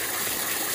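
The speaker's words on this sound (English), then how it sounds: "took this water hose blast like that down inside the sugar" Water blasting from a hose down into a bucket of sugar to mix sugar water, a loud, steady rushing gush close up, dense and unbroken for the whole moment with no voices.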